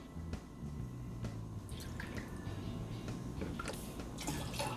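Two ounces of cranberry juice are poured into a low-carb cocktail with vodka and tequila, a faint, soft trickle and a few drips heard up close against a quiet background.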